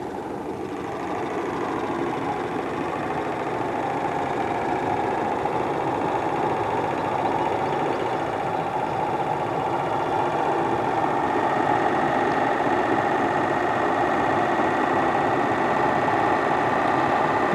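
A small Stirling engine runs steadily at about 2,000 RPM, giving a continuous, even mechanical hum and whir close by, unchanging throughout with no talk.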